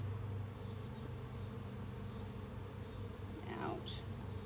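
Honey bees hum steadily close by while a hive is opened for inspection, a dense continuous buzz with a few individual bees droning past near the end.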